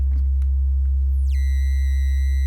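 An Erica Synths Graphic VCO with its bit crusher effect: a low, constant buzz holds steady while a thin tone sweeps upward and then sits as a gritty, harmonic-rich synth note, quiet and alone.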